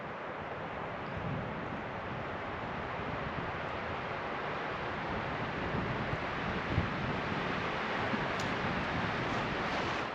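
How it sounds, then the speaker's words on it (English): Strong wind buffets the microphone in a constant, dense roar, with faint gusty variation and no voices. "It's windy today. Hear the wind?"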